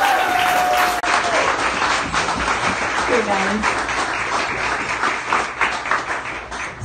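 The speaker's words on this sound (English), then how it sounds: "give a huge round of applause for Montreal's own," An audience applauds a live music performance, with a dense wash of clapping and scattered cheers that continues steadily while a voice briefly speaks over it.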